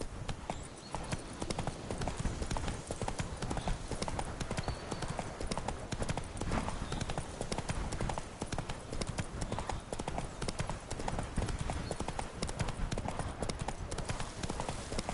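Roach, a horse in the video game The Witcher 3: Blood and Wine, gallops with a fast, steady clip-clop of hooves that runs unbroken and loud from start to finish, with no talk over it.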